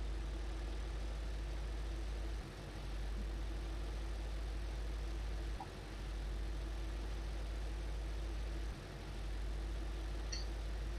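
Tractor engine idling steadily in the Farming Simulator video game, a constant low droning hum with a few brief dips in level across the stretch, no talking.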